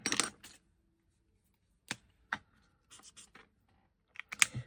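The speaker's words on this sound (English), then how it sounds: "I'll write these down." Paint codes written down by hand with a pen: short, quiet scratchy strokes in separate bursts with pauses between them, no voices.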